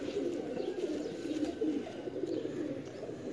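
Pigeons coo in a champion loft in Sialkot, a close, continuous chorus of soft rolling throaty calls overlapping one another without pause, with no speech.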